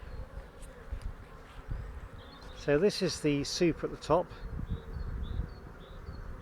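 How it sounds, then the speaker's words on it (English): Honey bees hum steadily around an opened hive's top super, a dense, moderately close buzz under a man's calm speech. "there's a lot of bees here"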